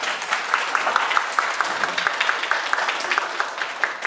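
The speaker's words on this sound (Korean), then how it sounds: "따뜻한 박수로 맞이해 주세요." At a live painting performance and exhibition, the audience applauds to welcome the artist, giving steady, moderately loud clapping from a crowd with a rapid, even texture.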